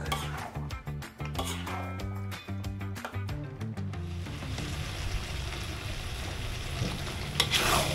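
Dry rendang is stirred in a pan, with a quick, rhythmic run of spatula clinks and scrapes against the metal. These give way to a continuous close sizzle of frying.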